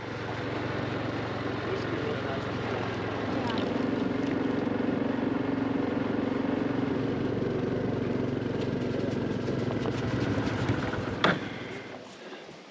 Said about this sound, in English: we're gonna take the four-wheeler up that one